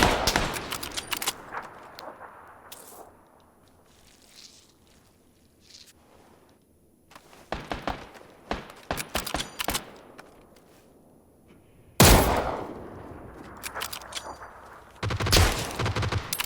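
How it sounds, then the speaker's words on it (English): Sniper gunfire from the PUBG battle royale game rings out in repeated sharp cracks and bursts over several seconds, with quieter gaps between volleys and a couple of loud clustered shots near the end. "Somebody sniped me from up the hill"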